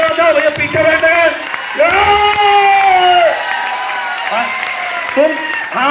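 Seminar audience at a business event clapping and cheering, a dense crowd roar with shouts throughout, loud and close, with voices calling out over it.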